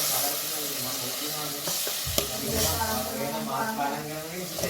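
Spices tempering for sambar sizzle and crackle steadily in a hot pan, a loud continuous frying hiss with a few sharp stirring knocks.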